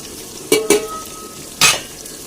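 Chicken mixed with chili powder, salt and masala in a pot, heard as three short scraping stirs, two close together and one after a pause, over a low sizzling background.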